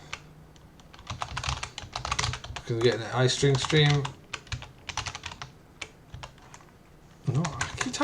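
Fast, close typing on a computer keyboard during a programming session, bursts of crisp clicking keystrokes that continue under someone talking and between his phrases.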